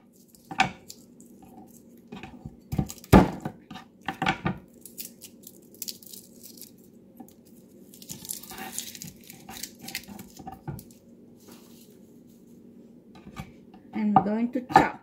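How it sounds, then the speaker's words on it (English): Garlic cloves being squashed and handled on a kitchen surface, with a few sharp knocks and clatters of a knife or utensil, sparse and close, separated by quiet gaps and a faint background hum. "we need to squash the garlic so it's easy to peel"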